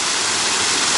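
River water rushes loudly through a beaver dam with a strong current, a dense, continuous roar close by with no voices.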